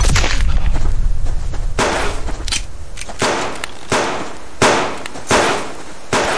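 Gunshots from a hunter in the survival game Subsistence: a rapid burst of loud cracks followed by several heavier, evenly spaced shots, close and harsh, with no talk.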